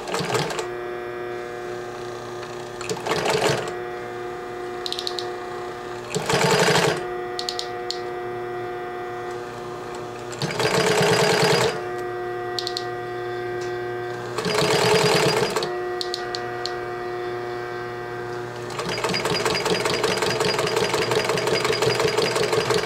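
A Singer 20U53 industrial sewing machine sews zigzag stitches in several separate bursts as the stitch length shortens, with a mechanical motor hum between them and a longer final run. The sound is close and loud, with no voices.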